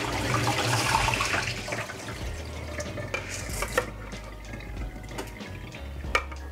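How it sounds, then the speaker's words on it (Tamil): Water draining from soaked red rice in a kitchen while making ulundhu kali, a broad steady wash of running water with a few light clinks of a pot or utensil, fairly close, no talking. "ஓகே, இப்போ நாங்கள் இதை தண்ணியாக வடிய வைக்கணும்"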